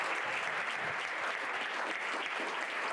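A church congregation claps for God during a worship service, a steady, dense wash of applause from many hands, moderately distant and even throughout.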